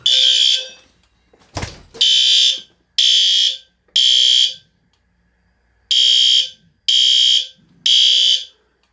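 Fire alarm sounding during a routine building system test: loud, shrill electronic blasts repeating in a steady on-off pattern, with one sharp knock partway through.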